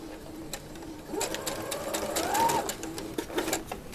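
A sewing machine stitches a gown, its motor whirring in steady bursts up close, rising and falling with each run of stitches and briefly pausing between them.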